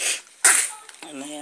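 A single sharp sneeze bursts out abruptly between stretches of speech, close and loud, with a person talking before and after it.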